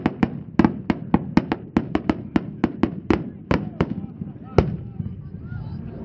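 Barrel-timed Lampari firework shells with yellow and red swimming stars and a bottom shot, bursting outdoors at a winter pyrotechnics showcase: a rapid, uneven volley of about twenty sharp booms and cracks over roughly six seconds, loud and fairly close.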